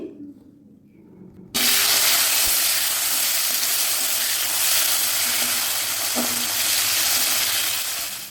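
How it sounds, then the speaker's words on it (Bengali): Chopped tomatoes drop into hot oil in a pan, setting off a loud, steady sizzle of frying that holds strong and close after a brief quieter moment at the start. "প্রথমে তেলের সাথে টমেটোটাকে একটু এইভাবে কষে নিতে হবে"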